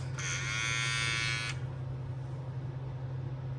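A Babyliss FX Lo-Pro hair trimmer switches on and gives a brief, close, high electric buzz for about a second before cutting off, leaving a low background hum.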